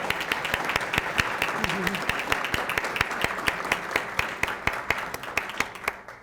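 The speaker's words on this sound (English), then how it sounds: "please standing up for a brief moment so we can applaud you being here" Audience applause at a civic luncheon, a moderately distant wash of clapping with sharp individual claps standing out in an uneven rhythm, gradually thinning toward the end.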